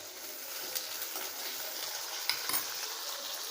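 Curry leaves sizzle in hot oil while being stirred for a black nightshade greens chutney: a steady crackling hiss close by, with a couple of brief utensil knocks near the end.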